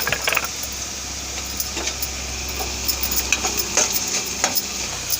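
Ground masala powder fries in oil in a pan, sizzling steadily while a utensil scrapes and clinks against the metal now and then, close by.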